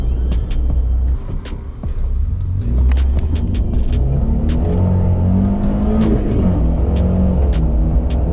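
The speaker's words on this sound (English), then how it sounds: "Second gear wheel spin." A 1.5-litre Suzuki Jimny revs hard in second gear with wheel spin, its engine note loud and close, rising and holding in a strained, droning whine with a brief dip early on.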